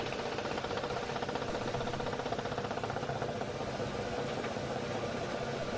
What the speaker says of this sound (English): Just realized that my engine turned on again by some reason.